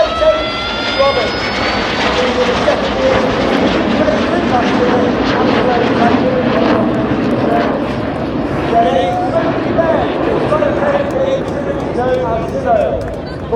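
Red Arrows aerobatic jets performing a rolling display at the 2023 Ayr Air Show, a continuous loud engine roar heard under an announcer's commentary.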